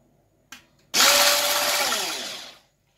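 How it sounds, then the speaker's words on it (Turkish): A kitchen blender whirs steadily for about two seconds as it mixes a milk and ice cream base for homemade milk ice cream, preceded by a brief click, then cuts off. "Şimdi burada blenderdan da bir geçireceğim."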